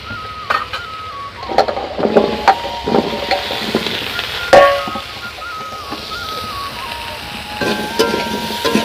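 Pointed gourd and potatoes frying with onion and garlic in a pan: a continuous close sizzle broken by scraping stirs and clinks of a spatula, with a faint tonal hum running underneath.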